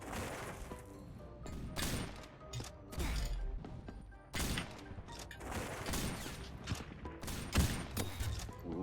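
Rapid bursts of gunfire from the Roblox shooter Recoil during a one-on-one match, loud and dense shots crackling in clusters with brief pauses, heavy impacts and mechanical clatter mixed in, no voices.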